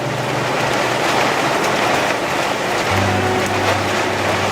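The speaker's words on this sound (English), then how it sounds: "Alright, so it's hailing too." Heavy rain with hail pounding down during a storm at a boat dock, a dense, steady roar that stays loud throughout with a low droning hum underneath.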